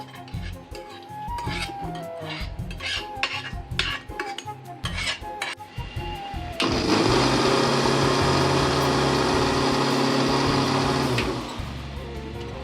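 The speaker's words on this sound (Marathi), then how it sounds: "आणि ह्या मिक्सर मध्ये आपण त्याची प्युरी करणार आहोत." Pressure-cooked vegetables and their cooking water being pureed for a red soup: clinks and rattles of ingredients going into a mixer grinder jar give way to a loud, steady motor whir that runs several seconds and then cuts off.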